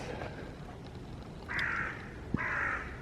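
Two crows caw in separate bursts along a woodland path outdoors, fairly near and loud over a steady background hiss, with no one speaking.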